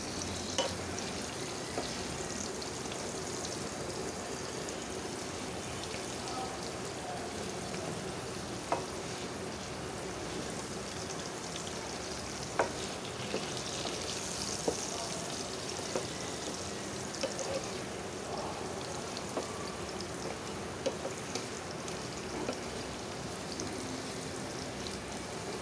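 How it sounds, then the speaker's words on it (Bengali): Pieces of elephant foot yam fry in oil with turmeric powder, making a continuous, moderately quiet crackling sizzle with occasional soft stirring clicks, heard alone for a long stretch. "একটু কালার হবে, ঠিক এইভাবে ভেজে নেব।"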